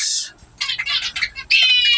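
Cockatiel chicks chirp in quick, high-pitched bursts, close by, with short gaps between clusters of calls.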